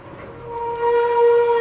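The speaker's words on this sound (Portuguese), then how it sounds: "um ônibus barulhento aí do lado" A noisy bus passes close by outside, its steady tonal engine drone swelling louder as it goes, with no talk over it.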